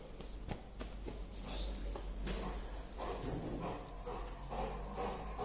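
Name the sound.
dog whimpering and yipping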